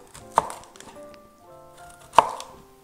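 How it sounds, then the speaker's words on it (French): A knife chops through Chinese cabbage on a cutting board in two crisp, loud strokes spaced well apart, each a sharp thud with a short crunch and quiet pauses in between. "On commence par couper le chou chinois."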